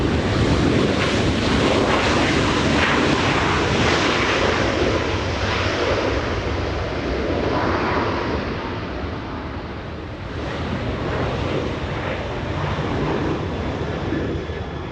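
A Delta airliner, flight 680 bound for Seattle, roars steadily at Los Angeles International Airport, a loud broad rumble that eases slightly partway through and then builds again, mixed with wind buffeting the microphone.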